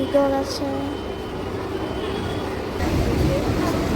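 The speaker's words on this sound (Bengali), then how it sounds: "এই গোপালনগর ঢুকছে ট্রেন" A train pulls into Gopalnagar station with a steady low rumble of wheels and engine that grows slightly louder toward the end, under a faint tone at the start.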